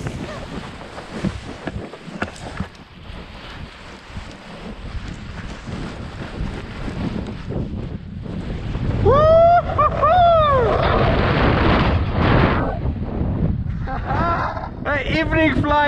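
Wind buffeting the microphone during a paragliding takeoff in Annecy, France: a steady, close, blustery roar that grows louder midway, with brief whistling chirps on top.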